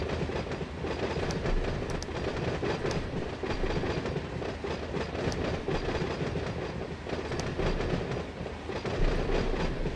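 A freight supply train rolls steadily past at close range, its wheels clattering rhythmically over rail joints in a continuous loud rumble for the whole stretch, with no voices.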